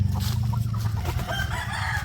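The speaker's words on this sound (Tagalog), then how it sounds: "magpapakain muna tayo ng ating mga alagang manok especially dito sa free range area" Free-range chickens cluck busily at feeding time, a close, steady flock chatter of clucks and calls over a low rumble, no voices heard.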